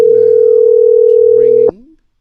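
Phone call ringback: a single loud, steady electronic tone holds for about a second and a half, then cuts off, with faint background voice underneath.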